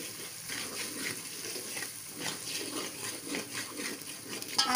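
Korma masala being stirred into chicken in a hot frying pan, a steady soft sizzle with scraping, rustling stirs that pulse irregularly, close and even throughout, ending with a slightly louder scrape.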